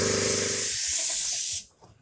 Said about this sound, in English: Let's get back to spraying this boat.